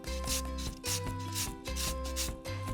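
Lemon zest grated for a berry ricotta spread, a run of rhythmic rasping strokes, roughly five or six in quick succession, close and clear over a faint musical bed.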